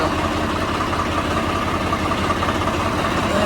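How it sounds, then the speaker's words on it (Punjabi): A motorcycle engine idles with a steady low rumble, constant and nearby, no voices over it. "ਇੱਧਰ ਮੋਟਰਸਾਈਕਲ ਆ ਗਿਆ"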